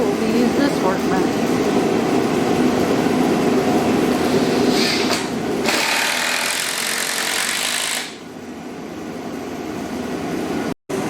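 A wood planer runs loud and steady at a home workbench, a dense mechanical roar that changes pitch midway, then cuts off and winds down near the end.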